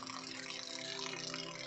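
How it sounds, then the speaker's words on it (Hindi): Heavy rain pours while runoff rushes along a road, filling it like a drain, heard as a steady, close, dense wash of water with a faint underlying hum throughout. "बड़ी भयानक बारिश। उधर देख रहे पूरा नाली बन के पानी इधर ही बह के आ रहा है"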